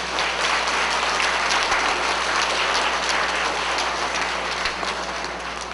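Schoolchildren at a school assembly give themselves a round of applause, a loud, dense and sustained roar of many small hands clapping, rain-like in texture, lasting several seconds and fading slightly at the end.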